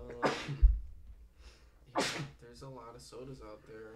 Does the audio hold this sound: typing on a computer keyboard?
no